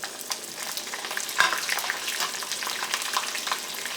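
Green chilies and dried red chilies fry in hot oil for a carrot pickle, giving a continuous close sizzle with one sharp clatter partway through and no talking.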